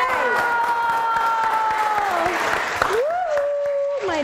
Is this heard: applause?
yes